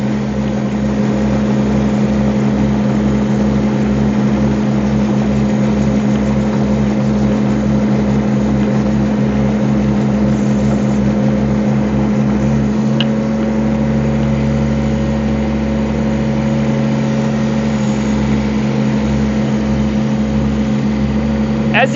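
Two Rippa mini excavators, an R13 and an R15, crawl along in low gear, a steady loud engine drone with a rhythmic low clatter from the tracks that smooths out partway through.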